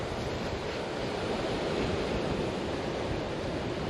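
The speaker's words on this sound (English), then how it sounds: "You can hear the rushing of the wind down, the further we get down here." Wind rushes continuously aboard a boat on the route from Fulton to Oswego, New York, a broad steady roar with no pauses, loud and close to the microphone.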